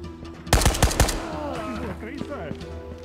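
Ghosts of Tabor gunfire: a quick, loud burst of about four close shots, followed by a voice talking as the echo fades.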